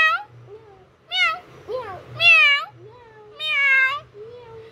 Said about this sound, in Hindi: अरे बड़ी बिल्ली, उठ जाना बिल्ली,